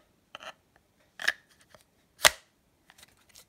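Knife blade sliding into its sheath: a few short dry scraping rasps and one sharper snick, close and quiet, with near silence between them and no voices.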